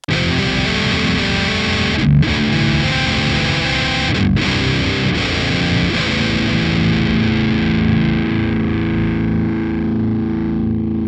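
Heavily distorted bass guitar through a pitch shifter's transpose effect, playing sustained single notes and chords, thick and loud, with brief gaps between phrases and no talking.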